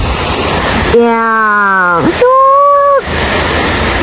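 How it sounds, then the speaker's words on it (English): Rushing water of Katiki Waterfalls near Araku, a steady broadband roar framing the clip, dropping out midway while a voice speaks over it with strong tonal sounds. "Katiki Waterfalls."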